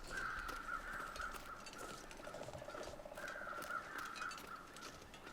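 Crows call repeatedly in the video game The Long Dark as they circle over a dead wolf, their harsh caws coming faintly and at a distance over a steady low background.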